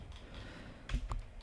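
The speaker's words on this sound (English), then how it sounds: "tap control on our keyboard" Two quick, close key presses on a computer keyboard, sharp little clicks about a fifth of a second apart over a quiet room hum.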